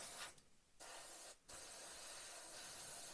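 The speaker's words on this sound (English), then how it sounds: "Now you can continue spraying up the fuselage." An airbrush sprays paint onto a 1/35 scale Spitfire Mk Vb model fuselage in a steady, close hiss, broken by two short pauses before carrying on continuously.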